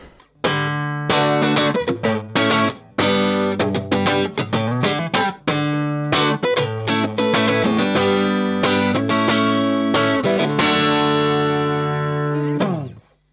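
A clean electric guitar plays a steady run of plucked notes and chords through a clean Marshall amp, bright and ringing with no talk.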